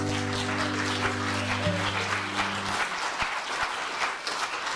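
Audience applause for a folk singer after a song, a dense wash of clapping that begins while the last held notes ring out and continues steadily after they stop.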